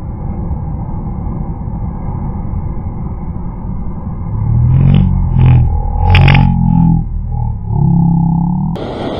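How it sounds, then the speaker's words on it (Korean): Ocean waves surge against the rocks on a rocky fishing ledge at Yellow Rock in Sydney, Australia, building from a windy rumble into a loud, heavy wash in the middle that then fades. "어우, 파도."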